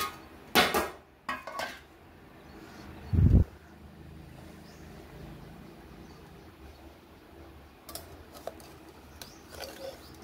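Hot aloo tikkis are lifted from a pan with clinking metal utensils: a few scattered clanks and scrapes, one low thud, and a faint background hiss between them.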